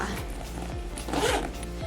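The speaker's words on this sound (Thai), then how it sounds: "มีซิปนะคะก็คือแบบ ซิปก็คือ รูดแบบว่าปื๊ดปืดเลยจริงๆนะคะ" A zipper on a Borboleta bag, a three-style carry bag, is pulled open in short rubbing strokes, close and fairly soft, with no talk over it.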